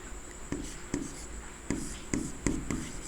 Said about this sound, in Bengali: আমি এখানে লিখছি